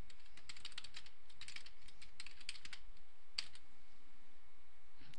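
Rapid clicking keystrokes on a computer keyboard while entering values into statistics software, in quick bursts with a brief pause, close and quiet, no talking.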